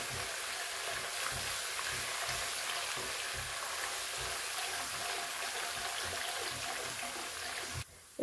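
Curry leaves fry in hot oil, giving a steady, fairly faint hissing sizzle with soft bubbling that carries on without break, ending in a quick clatter.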